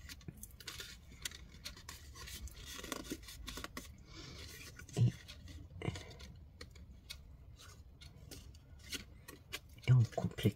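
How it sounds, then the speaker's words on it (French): Scissors trim excess paper for a photo album popup in a series of quiet, close snips and crisp paper rustles, with a couple of firmer cuts standing out. "Et on coupe l'excédent."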